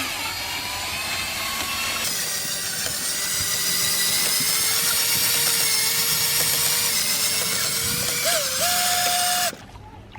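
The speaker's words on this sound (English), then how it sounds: "Then you go ahead and mix it up with a drill." Handheld drill whirring steadily in a bucket of aircrete foam solution for about nine seconds, loud and close with a droning motor pitch that rises near the end before cutting off.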